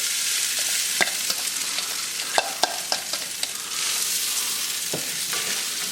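Potatoes sizzle steadily in a hot pan, a continuous dense frying hiss with scattered sharp pops and clicks of stirring, close and fairly loud, with no talking.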